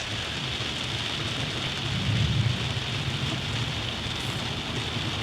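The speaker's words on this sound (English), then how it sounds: "It's starting to rain." Rain begins falling outdoors in England, a steady broadband hiss of drops on surfaces with a low rumbling swell in the middle, continuous and fairly close with no voices.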